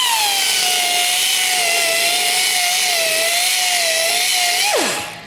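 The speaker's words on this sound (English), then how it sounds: "I'm just kind of going to go in there and give her a clean buff." A high-pitched power tool whines continuously while buffing an Olds 455 engine block during prep, holding a steady tone before quickly spinning down at the end, close and loud with no talking.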